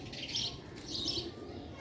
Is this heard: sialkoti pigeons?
yes